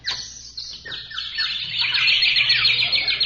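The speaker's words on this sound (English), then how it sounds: "Hey, must be a million birds here." A radio-show sound effect of many birds chirping at once, a dense, shrill chorus of tweets that swells louder and thicker over a few seconds, with no voices over it.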